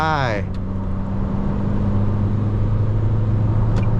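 Isuzu D-Max 1.9 manual two-door pickup, 2024 X-Series, at full throttle while overtaking, steady loud engine drone with a sweeping rise at the start, cabin road noise throughout and a voice over the top.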